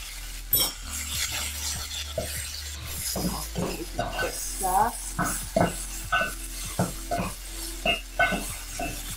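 Swordfish and capers pan-frying, a steady sizzle under repeated clinks and scrapes of a utensil against the pan as the fish is turned.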